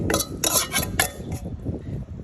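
A knife slicing raw liver, tapping and scraping on a board in quick, uneven strokes, with light metallic clinks, close by and fairly loud.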